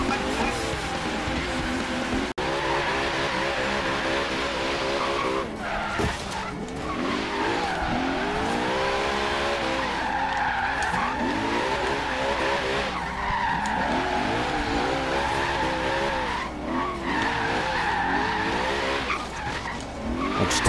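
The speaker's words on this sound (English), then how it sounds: "welcome back to the channel to some Forza Horizon 3 Drifting in the Parking Lot" Cars drift around a parking lot in the racing video game Forza Horizon 3, with long repeated tire squeals and skids over engine revs, sustained and fairly loud throughout.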